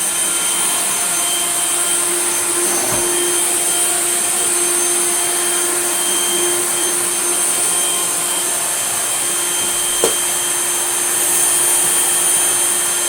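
A Hoover Celebrity S3005 floating vacuum cleaner runs with a steady, loud motor whine and airy rush, unbroken throughout, with a couple of faint knocks as the head moves.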